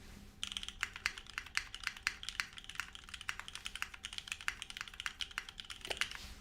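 Fast, steady typing on a KBDfans Agar custom mechanical keyboard, dense close-up clacks in quick irregular bursts with no speech, ending in a short pause.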